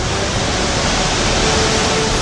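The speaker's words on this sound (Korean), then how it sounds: "지축을 뒤흔들 듯 쏟아내는 굉음" Roar of Niagara's Horseshoe Falls, a huge waterfall about 55 m high and 900 m wide, heard as a dense, loud, unbroken rush of falling water with no letup.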